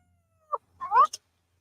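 A house cat meows once, close and fairly clear, a short rising-falling call with a brief chirp right after it, in an otherwise quiet room.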